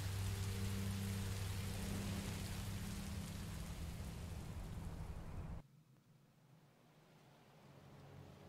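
Steady rain falls in the video game Minecraft Story Mode, a dense even hiss with a low rumble that cuts off abruptly partway through, leaving quieter background.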